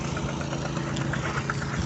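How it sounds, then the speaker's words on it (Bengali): A petrol-engine water pump used for irrigation runs at a steady, loud, even drone with a rough low rumble throughout. "পেট্রোল ইঞ্জিন হওয়ার কারণে দেখেন কত শক্তি"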